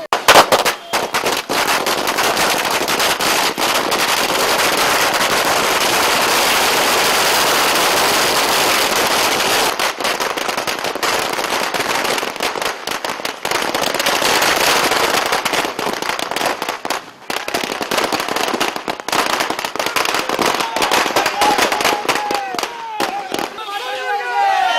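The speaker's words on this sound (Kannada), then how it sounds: "ನಗರದ ಅಶೋಕ ವೃತ್ತದಲ್ಲಿ ಜಮಾಯಿಸಿದ ಕಾರ್ಯಕರ್ತರು ಪಟಾಕಿ ಸಿಡಿಸಿ ಸಂಭ್ರಮಿಸಿದರು." Firecrackers burst in rapid, crackling volleys as party workers celebrate an election win at a city traffic circle, loud, dense strings of pops going on for about twenty-five seconds with crowd noise underneath.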